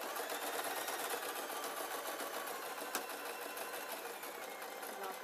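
A sewing machine stitches steadily in a rapid, even mechanical whir, with a single faint click partway through.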